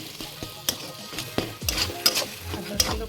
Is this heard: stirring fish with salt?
yes